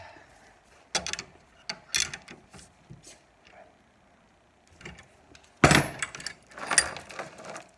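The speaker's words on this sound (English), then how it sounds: "so now we'll bend the other one from the vise." Homemade tire chain link being bent in a vise in a workshop: scattered metallic clanks and ratcheting knocks in bursts, with a quiet pause in the middle and a louder cluster of clatter near the end.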